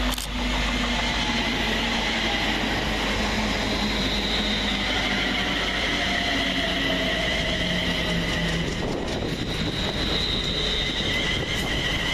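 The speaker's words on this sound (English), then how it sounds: "350-262 and 350-113 working the 1043 London Northwestern Railway service from London Euston to Birmingham New" Two coupled London Northwestern Railway Class 350 electric multiple units pass through Leighton Buzzard station, a loud sustained rumble with whining motors and high squealing wheel tones, shifting in pitch as the train goes by close.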